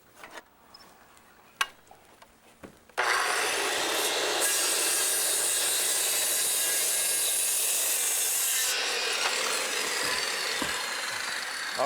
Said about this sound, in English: I'm just ready to cut out my last mortise here to receive the stringers.